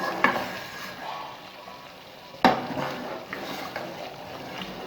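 Homemade desi ghee simmering in a pot on a low flame, a soft continuous crackle and bubble with a faint clink of a spoon against the pan partway through.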